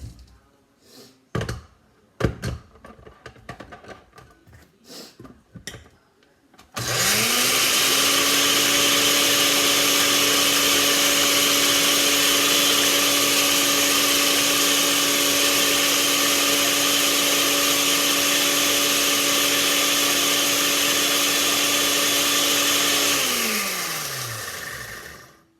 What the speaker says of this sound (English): Let me put it in the blender.